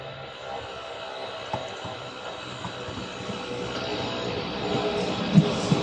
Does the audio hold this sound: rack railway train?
yes